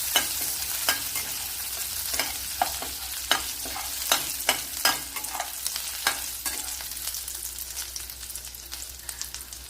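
Dried red chili and green chili stir-frying in a hot pan, with a steady oily sizzle broken by repeated sharp scraping clicks of a spatula stirring, close and fairly loud, no voices.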